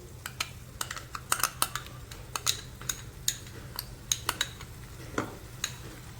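A spoon scrapes and clinks through a thick tomato, onion and garlic paste masala in a pan, with a run of irregular sharp taps over a low steady hum.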